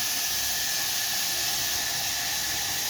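Vegetables frying in ghee with a little turmeric in a home kitchen pan, a steady bright hiss and sizzle, close and continuous with no talking.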